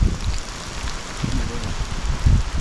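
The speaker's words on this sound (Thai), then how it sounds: "ฝนตกลมแรงระวังตรงไม้หลบนะครับ" Steady rain with gusting wind on a mountain forest trail at Doi Suthep, Chiang Mai, a broad wash of noise with low rumbling buffets rising and falling throughout.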